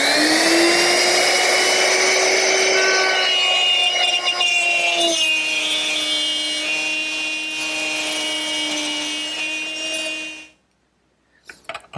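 Router with a straight cutter plowing a groove into a wooden box for a candle stand, a loud steady high whine with cutting noise for about ten seconds, then stopping abruptly.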